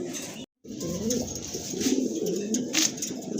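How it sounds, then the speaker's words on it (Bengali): A pair of red checker racer pigeons cooing close by, with repeated low throaty coos in soft rolling phrases over a faint background hiss, broken by a short gap near the start. "ফুল এক জোড়া রেড চেকার রেসার মাশাল্লাহ অলরেডি কিন্তু ডাকাডাকি শুরু করে দিয়েছে"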